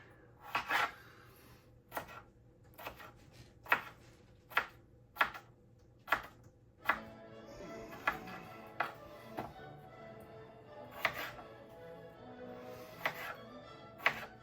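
A knife chops red potatoes into thin slices on a cutting board, about a dozen distinct, evenly spaced knocks, close and clear against a quiet background.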